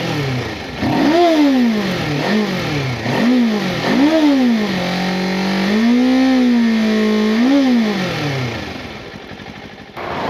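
The parallel twin engine of a 2026 Kawasaki KLE500 motorcycle revs loudly and close by, several quick blips rising and falling, then a sustained higher rev before settling to idle.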